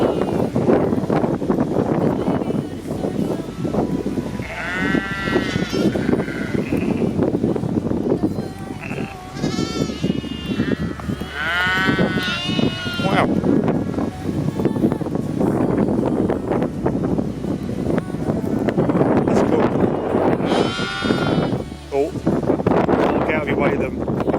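Wind buffets a microphone on a countryside hike in North Devon, making a steady, loud roar throughout. Sheep bleat nearby at several points, and people talk over the noise.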